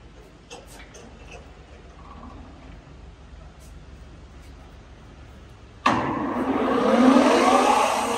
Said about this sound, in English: Working of spindle at its maximum speed, that is 2200 rpm.